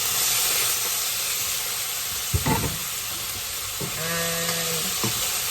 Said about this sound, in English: And just kind of saute that a little bit